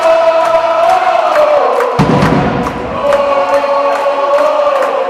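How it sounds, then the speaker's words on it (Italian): Home supporters roar through a basketball game, a loud, continuous crowd din with drumming thumps, a tonal horn or chant layer and a deep thud near the middle. "qua c'è un frastuono pazzesco e la nostra tifoseria"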